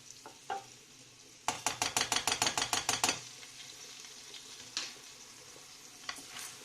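Basmati rice sizzling in hot oil as a spoon scrapes and stirs it in a quick run of about a dozen rhythmic strokes, then occasional lighter scrapes.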